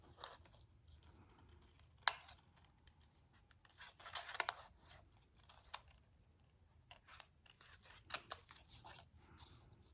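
Scissors snip around a stamped vellum paper flower: quiet, close, irregular crisp cuts and paper rustles in short clusters, faint against a near-silent room.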